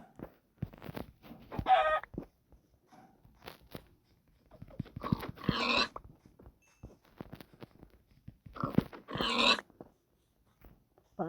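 Chickens clucking in three loud bursts spaced a few seconds apart, with quieter scratching and stepping sounds between them and no talking.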